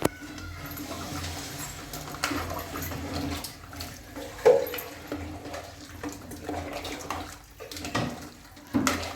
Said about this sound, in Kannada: ಈಗ ನಮಗೆ ನೀರು ಎಷ್ಟು ಬೇಕೋ ಅಷ್ಟು ನೀರು ಹಾಕೋಬೇಕು